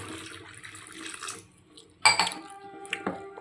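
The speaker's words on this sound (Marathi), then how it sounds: "ह्यात मी अजून पाणी ॲड करते." Water is poured into churned butter while ghee is made at home, with soft sloshing and then a sharp clink of a metal vessel and a few scraping, splashing knocks.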